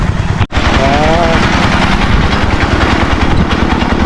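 A well-drilling machine's engine runs loud and close, a steady throbbing drone with one brief dropout near the start, boring into soil.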